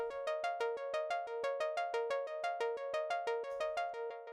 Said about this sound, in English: And this ARP, which is just pretty constant and sounds like this.